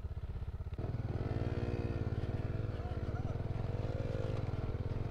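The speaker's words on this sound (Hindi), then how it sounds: "इस पर जो घास है उसकी वजह से बाइक जो ऊपर जा नहीं पा रही है" A motorcycle struggles uphill off-road on grass, its engine revving hard and warbling in pitch as the rear tyre spins and skids in place. The engine drone is loud and close, and a voice talks over it.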